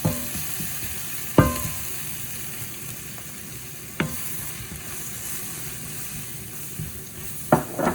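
Chili powder frying in hot oil for a mutton roll filling, giving a steady close sizzle with a few sharp knocks of a spoon against the pan as it is stirred.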